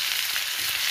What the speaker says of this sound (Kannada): ಈಗ ನಾನು ಈರುಳ್ಳಿ ಹಾಕ್ತಾ ಇದ್ದೀನಿ.